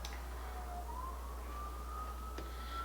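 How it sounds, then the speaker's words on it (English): Emergency vehicle siren passing outside, a faint, steady wail rising slowly in pitch over a constant low hum, distant and continuous throughout. "here go the sirens now"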